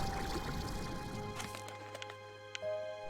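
Water is collected in the video game Slime Rancher 2: a gushing pour fades out after about a second and a half, then soft game tones and faint clicks follow.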